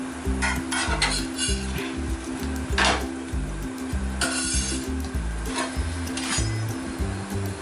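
A large stuffed egg bhurji paratha is turned on a hot tawa, with a spatula scraping and rubbing against the metal, a steady sizzle underneath and a few sharp clatters, close and busy.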